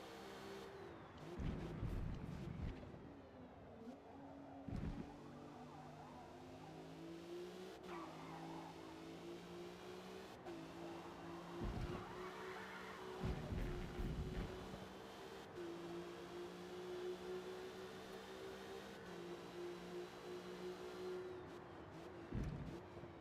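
A Honda Civic race car in a racing video game revs and shifts through repeated engine surges, with sharp bursts of tire squeal and skidding breaking in every few seconds.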